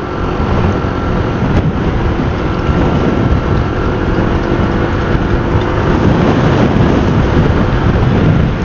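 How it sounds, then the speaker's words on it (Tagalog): Strong wind buffeting a rider on a Honda Click 125i scooter along a highway, a loud constant roaring rush with deep rumble and no clear voices. "Malakas pati ang hangin dito sa highway, guys."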